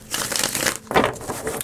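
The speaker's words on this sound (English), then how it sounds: "Let's do 2 more shuffles here." Quick papery riffle of a card deck being shuffled, two short crisp bursts of flicking cards close to the listener, with no speech.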